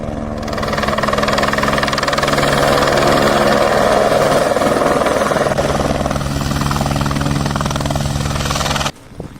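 A helicopter at a heliport beside a gas station, motel and restaurant at kilometer 381 of the James Bay Road gives a loud, steady droning engine hum with a constant pitch. It runs without a break for about nine seconds, then cuts off abruptly.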